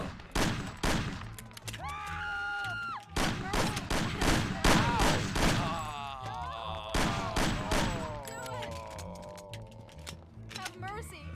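Sharp bursts of gunfire in Mafia: The City of Lost Heaven, a string of loud cracking shots mixed with shouting voices and panicked cries.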